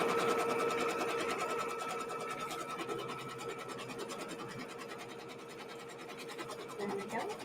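Sewing machine running steadily as it sews a tack down stitch on a mini quilt, a continuous close whirring hum that eases slightly in level over several seconds and is heard alone.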